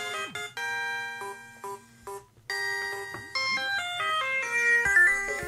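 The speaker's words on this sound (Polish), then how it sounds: "Przepraszam, telefon." A phone ringing with a melodic electronic ringtone, a bright chiming tune of stepped notes repeating in phrases with short pauses, heard clearly and alone without speech.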